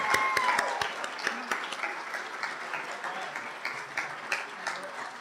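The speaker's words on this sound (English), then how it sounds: "A huge round of applause for all of them for their accomplishments" Applause from an audience at a physical therapy hooding and pinning ceremony in a hall, with dense clapping and a few loud individual claps that fade slowly.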